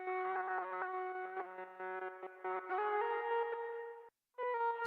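A synthesizer plays a sustained, layered tone drenched in reverb, notes stepping and shifting before cutting out briefly and returning, with no voices.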